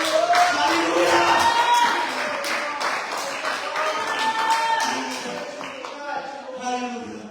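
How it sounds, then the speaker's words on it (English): Church congregation clapping hands in worship, dense steady applause and rhythmic claps with voices and cheers mixed in, gradually thinning toward the end. "Can we clap our hands to the Lord?"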